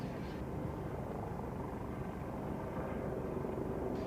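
A helicopter with a ducted fan tail rotor at an air race event, a steady, fairly quiet broadband rotor and turbine rumble that holds evenly throughout with no voices.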